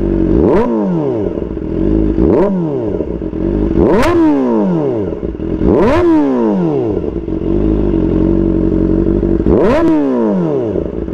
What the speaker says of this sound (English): ayan lang naman ang tunog ng ZX4RR.